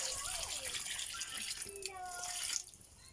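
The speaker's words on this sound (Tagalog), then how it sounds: "Lagyan natin ng tubig." Water pours into a pot of mung bean stew with squash and bottle gourd, making a steady rushing gush that fades near the end, with a faint voice in the background.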